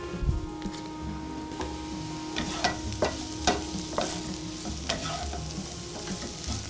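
Eggs mixed with chives and a little cheese cook in a warm pan, giving a steady soft sizzle with occasional scraping stir clicks and clatters throughout, close and moderately quiet, with no talking.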